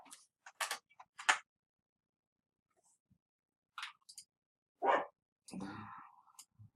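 A dog barks a few times, short and faint, apart from quiet ticking and clicking sounds in an otherwise silent room.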